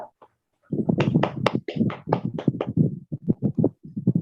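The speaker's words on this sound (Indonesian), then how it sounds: "Tepuk tangan untuk kelompok 2." A class of students claps for a group in an online peer-teaching lesson, a burst of quick, uneven hand claps that starts after a brief pause and continues closely miked.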